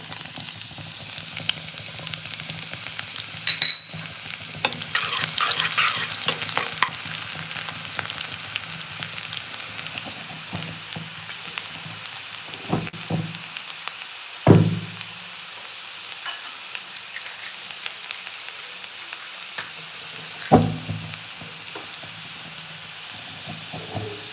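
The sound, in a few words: garlic frying in oil with dried chili and bay leaf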